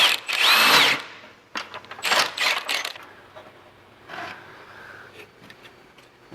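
A power tool, likely an impact wrench, drives lift kit bolts on a 2022-25 Honda Civic, heard as a loud burst followed by several shorter, quieter bursts with gaps between them.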